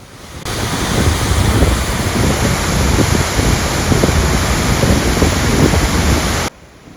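Niagara Falls on the American side roars as a loud, continuous broadband rush of falling water for about six seconds before cutting off abruptly.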